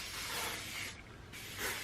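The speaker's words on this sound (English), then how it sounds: "Let me spray this a little bit." Hissing spray bursts from a product misted onto relaxed hair, two close pulses with a short break between, soft and airy with no talking.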